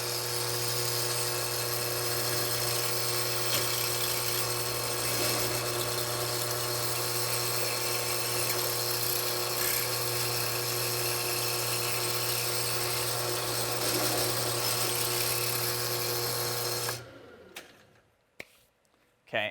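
A power drill bores a big hole in a corner of a model superstructure, a loud steady whine with a constant hum that runs without a break for about seventeen seconds, then stops abruptly, leaving a few faint clicks.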